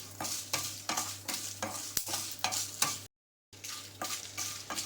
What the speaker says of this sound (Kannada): ಮೆಣಸಿನ್ಕಾಯಿ ಚೆನ್ನಾಗಿ ಹುರಿದಾಗಿದೆ